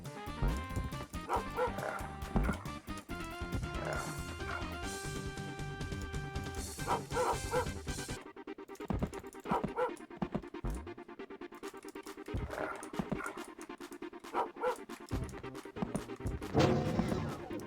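Dog barking, yipping and whimpering in dog form in the game Rise of the Triad, loud and continuous over game music and effects, with repeated sharp bursts throughout.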